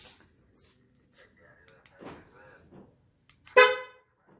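A 2004 Honda Accord gives several faint clicks and clunks as its doors lock, then a short, loud, blaring horn honk rings out nearby.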